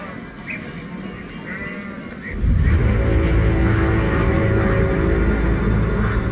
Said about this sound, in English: the next time you see a humble goat running in the opposite direction